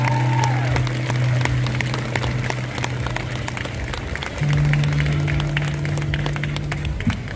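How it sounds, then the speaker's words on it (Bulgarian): Concert crowd applauding and cheering as a singer is welcomed onstage at a live Bulgarian pop show, steady dense clapping throughout with strong sustained low tones from the stage sound system underneath. "Ще посрещнете ли със силни аплодисменти?"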